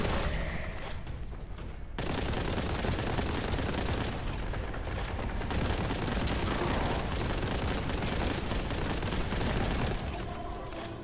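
Dense, loud combat din in Warhammer 40,000 Boltgun, rapid gunfire and blasts running nearly continuously, with a grenade explosion buried among the heavy shooting.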